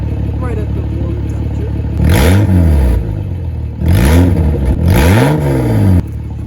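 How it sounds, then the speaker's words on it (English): A 1988 Toyota Supra engine idles close by, then is revved three times, each rev rising sharply in pitch and falling back, loud and near, with someone talking briefly around the revs. "Give it a few revs for y'all."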